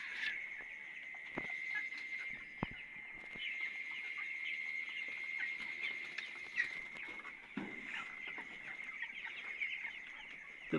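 Chickens on a poultry farm cluck and chirp amid a continuous high-pitched peeping from chicks, with scattered knocks and thumps, moderately quiet and without speech.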